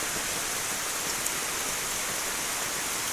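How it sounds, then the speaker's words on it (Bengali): Steady rain pours over flooded rural ground near homes, a bamboo grove and an areca nut garden on an autumn afternoon, a continuous dense hiss with no breaks and no voices. "টানা বৃষ্টি।"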